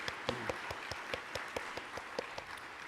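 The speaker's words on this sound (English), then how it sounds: "A round of applause for our first panelist" Sparse, faint clapping from a small conference audience after a panelist on children in crisis, individual claps spaced out at an uneven rhythm.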